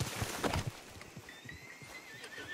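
A horse in the Red Dead Redemption 2 video game gives a whinnying neigh amid clip-clopping hooves, fairly faint and close, with no talk during it.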